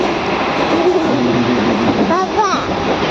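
Inside a moving Mumbai local commuter train between Sion and Kurla, a continuous low rumble and rattle of the carriage runs under close talking voices.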